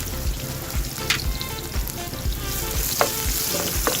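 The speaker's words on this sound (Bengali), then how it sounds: "গোটা জিরেগুলো আমি তেলে দিয়ে দিব। পেঁয়াজ কুচি এবং রসুন কুচি দিয়ে দিব।" Whole cumin, chopped onion and garlic sizzle steadily in hot oil for a dried fish bhuna, with a few soft scraping stir strokes punctuating the constant crackle.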